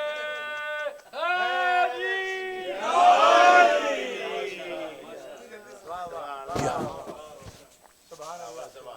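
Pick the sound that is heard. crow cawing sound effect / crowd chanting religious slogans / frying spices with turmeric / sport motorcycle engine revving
crowd chanting religious slogans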